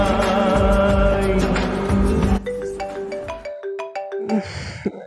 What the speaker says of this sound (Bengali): এখন আবার কে ফোন করলো?